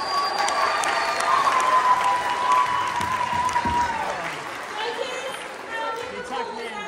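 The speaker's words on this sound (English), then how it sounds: "let's give one last round of applause for everybody" Steady audience applause with cheering and whistles at a Mock Rock 2023 show themed a night at the movies, loud and continuous, easing slightly as the crowd murmurs beneath it.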